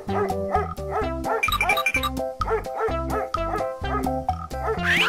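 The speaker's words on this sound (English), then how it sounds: "Dog." A cartoon dog barks in a children's animal painting cartoon, a quick run of bright, musical yaps and bow-wows repeating rhythmically, close and loud and set over a playful tune.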